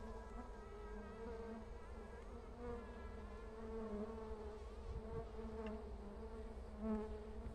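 A dense swarm of jataí stingless bees buzzes steadily inside an opened bamboo nest, a continuous close, layered hum of many wings with no talking.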